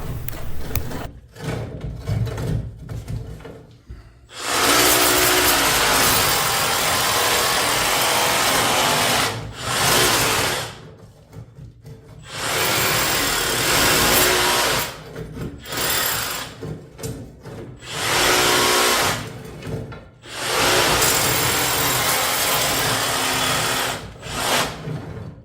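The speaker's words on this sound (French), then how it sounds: "Avec cette mèche, j'ai juste la longueur pour traverser toute l'épaisseur du mur." A power drill with a one-metre-long bit bores through the full thickness of a thick wall in several long bursts of grinding whine, separated by short pauses and clattering handling noises, heard close and loud.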